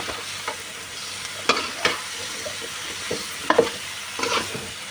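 Potatoes stir-fried in a pan for massaman curry, a steady sizzle broken by a handful of sharp scraping stirs and clanks of the utensil against the pan, close and moderately loud with no talking.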